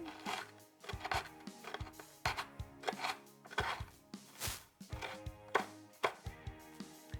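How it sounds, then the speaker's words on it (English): A knife chops Butterfinger candy bars on a cutting board in crisp, irregular close-up strikes, several crunching chops a second with brief pauses. "Butterfingers are chopped"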